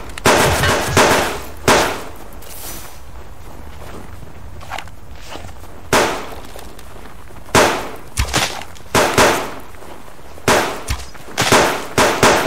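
Pistol shots in the survival video game Subsistence: a handful of sharp, loud cracks fired at irregular intervals, some in quick pairs, with quiet gaps between them and no talking.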